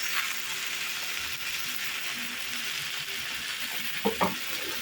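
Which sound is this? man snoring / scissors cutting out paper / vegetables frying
vegetables frying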